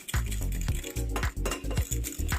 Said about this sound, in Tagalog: konting mix lang po, no, para ma ma-mix po yung harina at saka yung ating itlog